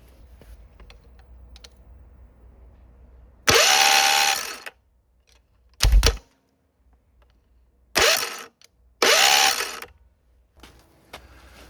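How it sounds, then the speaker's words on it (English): A starter motor on a low-compression small engine, powered with the solenoid bypassed, cranks the flywheel in four short whirring bursts of about a second each, separated by quiet pauses and a brief clunk. "Starter looks like it's turning the flywheel just fine."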